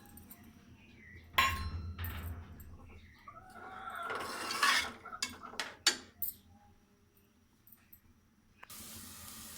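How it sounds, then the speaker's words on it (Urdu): Chopped onions drop into hot oil in a karahi and start sizzling, a soft spitting hiss with clinks of a metal spoon against the pan, fairly quiet and close, ending in a steady frying hiss. "اس میں ہم ڈال دیتے ہیں پیاز کو ہم نے کرنا ہے لائٹ براؤن"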